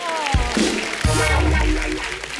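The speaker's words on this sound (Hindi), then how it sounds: "अर्चना जी के लिए जोरदार ताली हो जाए" Audience applause for a guest on a comedy talk show, steady broadband clapping with a couple of low thumps, a voice briefly audible beneath it.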